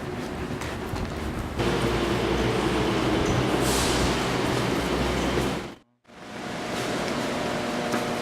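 A subway train rumbles past on an early-morning platform near a market street, a loud broad roar that holds steady for several seconds, then cuts off abruptly before the quieter station ambience returns.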